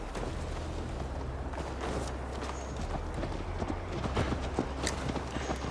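A horse ridden in the video game Assassin's Creed Valhalla gallops with steady clip-clop hoofbeats over a low rumbling ambience, the footfalls close and continuous throughout with no speech on top.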